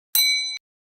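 A bell aboard a Florida fishing boat gives one short, bright metallic ring, struck sharply and decaying within half a second into silence.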